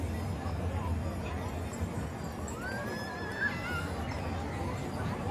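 Horses ridden past in a Victorian sleighbell parade, with a brief whinny and faint hoof clops rising over a steady murmur of crowd chatter and speech.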